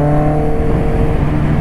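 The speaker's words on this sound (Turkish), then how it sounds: "Size bir ara gaz şov." A Honda CBR motorcycle engine held at a high, steady rev with a buzzy harmonic whine, loud and close, with no voices over it.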